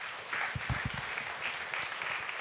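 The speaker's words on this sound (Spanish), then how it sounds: "Denle un aplauso fuerte." A church congregation gives sustained applause, moderately distant and fairly quiet, with a few stronger claps standing out early on.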